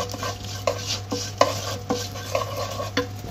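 Fennel seeds and black pepper dry-roast in a pan while a spatula stirs them. Regular scraping strokes come about every half second over a steady low hum, with no speech.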